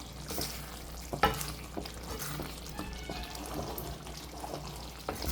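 Thick chicken curry gravy stirred in a pan with oil separating, soft wet scraping and gentle bubbling sizzle with a few knocks of a spoon, close and fairly quiet, no speech.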